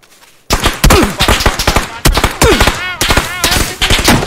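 Rapid bursts of gunfire in the battle-royale game PUBG crack out in quick repeated volleys, loud and close, with short pauses between the strings of shots.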